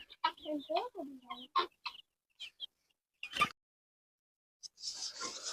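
Several guineafowl give harsh, rapid clucking calls close by, in bursts with short pauses, followed by a noisy flutter.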